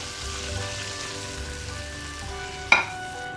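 Butter heating in a kadhai as it is cooked down into desi ghee, giving a steady soft bubbling sizzle close by with one sharp clink of a utensil near the end, no voices.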